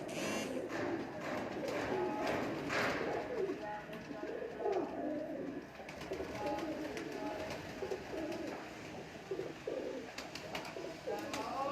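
Mustached-breed pigeons coo repeatedly close by in a loft, overlapping rolling calls continuing throughout, with people talking at times.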